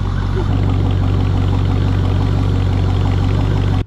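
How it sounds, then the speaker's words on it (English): A 1994 Chevrolet Corvette C4 engine idling steadily after fuel injector replacement, with a low, even hum and rumble, close and fairly loud, cutting off abruptly at the end. "it used to not idle properly either, so now it's actually idling"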